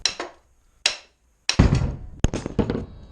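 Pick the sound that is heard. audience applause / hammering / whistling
hammering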